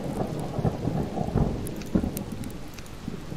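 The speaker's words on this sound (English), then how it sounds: "Oh man, it's raining." Heavy rain pours steadily in the video game Subsistence while low rumbles of thunder roll in and out, close and dense, with no one speaking.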